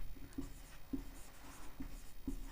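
Chalk writing on a board during a class 10 math lesson, soft rhythmic taps and strokes roughly every half second, close and quiet.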